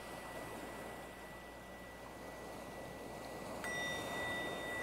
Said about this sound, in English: And just let the bell call you into this moment,